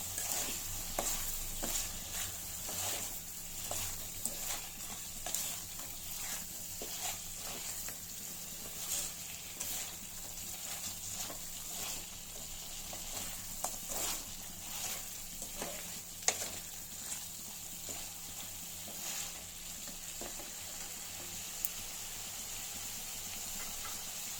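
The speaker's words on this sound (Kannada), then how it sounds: "ಈಗ ಶುಂಠಿ ಬೆಳ್ಳುಳ್ಳಿ ಪೇಸ್ಟ್ ಈಗ ಮಿಕ್ಸ್ ಮಾಡೋಣ ಚೆನ್ನಾಗಿ." Ginger garlic paste stirred into chicken frying in a pan, a steady close hiss and sizzle with repeated stirring scrapes and occasional sharp clicks running throughout, no talk.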